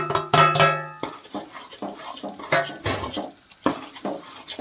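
A pan of panjiri being stirred, with crushed almonds, walnuts, cashews, poppy seeds, melon seeds, fox nuts and edible gum mixed into roasted wheat flour; a quick clatter of utensil on metal opens, then soft repeated scraping and stirring follows.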